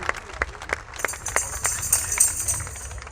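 At an outdoor Hungarian cooking festival, a crowd claps along to encourage a young girl dancing, scattered individual claps that thicken into a looser crowd applause, moderately faint under background noise.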